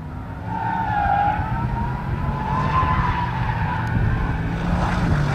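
An Aston Martin Valkyrie drifts on a race circuit, its tires squealing loudly in long wavering tones over a continuous engine roar, with no voices.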